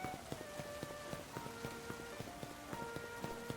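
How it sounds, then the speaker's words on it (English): Rain falling in the video game Pokemon Legends Z-A, a soft patter of drops tapping on surfaces beneath light melodic game music, the drops landing in an irregular but steady rhythm. "Oh my gosh, it's raining!"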